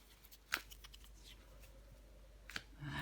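A tarot card laid down on a table, two sharp papery taps with light card rustling between them, close and quiet.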